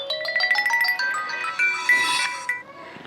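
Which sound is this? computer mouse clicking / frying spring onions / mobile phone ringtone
mobile phone ringtone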